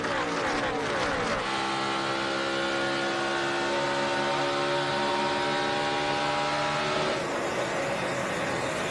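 NASCAR stock cars race at the Bank of America 500, a loud sustained roar of engines revving and shifting as a pack passes, rising and changing pitch across the clip.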